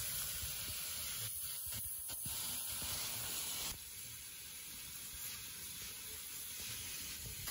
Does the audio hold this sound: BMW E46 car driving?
no